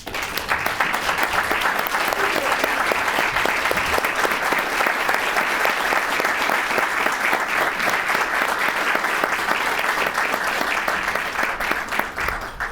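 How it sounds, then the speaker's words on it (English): Outreach workers, social workers and violence-prevention staff get sustained, steady applause from a roomful of people at a year-end crime statistics press conference, heard up close with no talk. "give yourself a round of applause"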